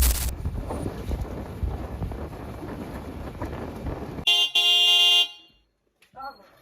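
A vehicle engine on a trip to a remote Sundarbans village roars with heavy wind noise, then cuts out abruptly, followed by a few short tonal beeps and near silence.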